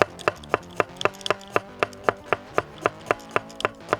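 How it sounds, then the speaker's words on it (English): A knife chops chili and garlic cloves on a board outdoors, with about fifteen sharp, evenly spaced taps in a steady rhythm, close and crisp, and no talking. "First off, we'll chop our chili and garlic."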